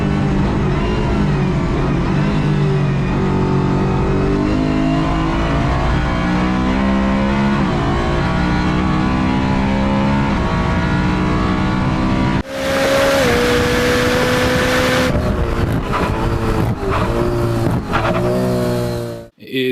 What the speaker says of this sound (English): an S65 V8. There you go, V8 powered, DCT, dual clutch transmission